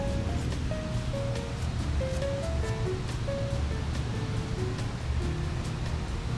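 River flowing past Riverfront Park in Spokane, Washington: a steady, close, full rush of moving water that fills the whole stretch without pause, with faint higher tones drifting over it and no talk.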